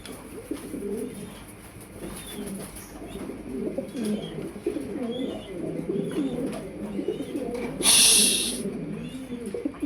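Pigeons coo steadily in soft overlapping rolls at a pigeon farm, close and continuous, with a brief bright hiss near the end and no talking.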